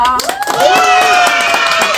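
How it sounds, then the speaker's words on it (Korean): Clapping from an audience welcoming a guest onto a Korean talk program, brisk, fairly close applause running under cheerful voices and a sustained tone. "박수로 맞이해주세요"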